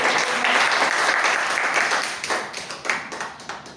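Applause from an audience at a Toastmasters club meeting, a thick burst of many clapping hands that holds loud for a couple of seconds, then thins into scattered claps.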